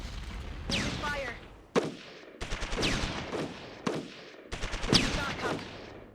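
Rapid rattling bursts of gunfire from units in the strategy game Shadow Empire, several separate volleys with brief silent gaps between them, loud and close.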